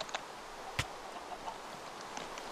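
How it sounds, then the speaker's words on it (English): Chickens clucking in a Minecraft-style multiplayer game, a few short soft clucks and one sharper squawk scattered over a low background hiss, no talking. "Keep all the chickens here. Whoa, a lot of chickens."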